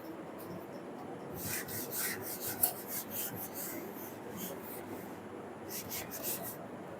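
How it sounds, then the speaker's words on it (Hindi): A board eraser rubs over a writing board in several quick, soft scrubbing strokes, fairly quiet and close, with bursts of rasping friction. "इसको मिटाते हैं"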